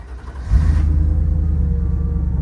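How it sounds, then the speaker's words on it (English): A Ford Bronco's Coyote V8 fires up close by, a brief crank giving way to a loud, steady low rumble that settles into an even idle with no voices. "That big V8 fires up."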